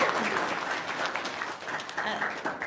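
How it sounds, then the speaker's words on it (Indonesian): Brief applause from an audience, a dense wash of clapping hands that swells and dips slightly over a few seconds at moderate, fairly distant volume. "Tepuk tangan dong"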